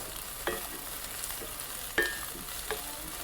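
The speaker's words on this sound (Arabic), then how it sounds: "طاسه سخنه، زيت، بصل متقطع على ايدينا" Small diced onion frying in oil in a hot pan gives a steady, soft sizzle close by, broken by a few light clicks of stirring, with no talk.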